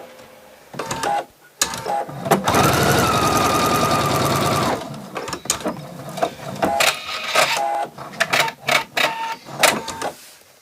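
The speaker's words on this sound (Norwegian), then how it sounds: "så syr jeg bare en søm for å holde disse her på plass nederst" A sewing machine stitches a seam on a simple dress in one loud, steady burst of about two seconds, surrounded by shorter start-stop runs and handling clicks, with no talk.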